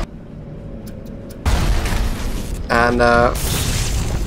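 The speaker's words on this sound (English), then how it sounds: "So there's something else firing rockets at us." Rocket blasts from turrets in the BioShock video game, sudden loud booms that jump in and rumble on, with a voice briefly heard over the noise.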